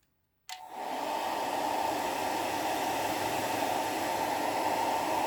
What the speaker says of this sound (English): And then hairdryer time again.